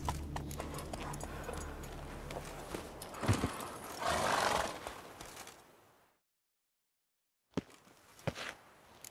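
Hooves of a horse clip-clop in The Witcher 3: Blood and Wine, steady trotting for about six seconds that fades into silence, then a few brief hoof and movement sounds return.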